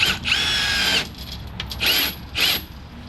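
A power drill runs in short whirring bursts, driving self-tapping screws with washers into CF Moto Z-Force 950 body panels; three or four close, loud spurts with brief pauses between, no talking.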